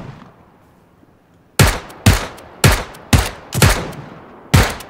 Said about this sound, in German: Auf mich wird geschossen!